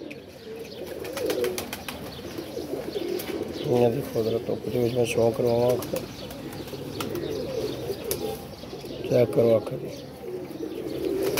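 Several pigeons coo in repeated rolling bursts, strongest in two loud stretches, among flying pigeons kept for a pigeon-flying competition, while someone talks over them.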